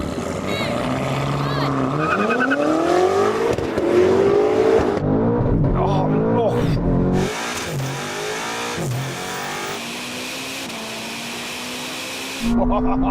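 A roughly 1000-horsepower BMW M5 and a Ferrari SF90 launching side by side in a drag race, loud engine roar rising sharply through gears then fading with distance, with voices and wind buffeting in between.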